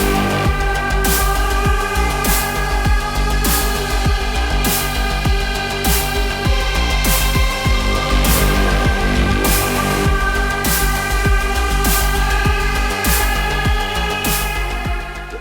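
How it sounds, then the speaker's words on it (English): A synthesizer app plays a dense, sustained patch with a pulsing rhythmic texture, loud and continuous for the whole stretch, layered tones and repeating percussive accents roughly every second, with no one talking. "Then again, this synthesizer can also sound like this."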